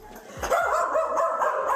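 Dogs bark excitedly inside a house as someone arrives at the front door, a few sharp close barks and yips followed by steady whining and whimpering.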